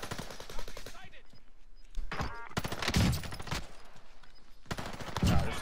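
Gunfire in a multiplayer shooter video game: rapid automatic bursts and rattling volleys, loud and close, broken by short pauses and mixed with voices talking over the action.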